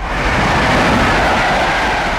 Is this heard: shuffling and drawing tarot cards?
no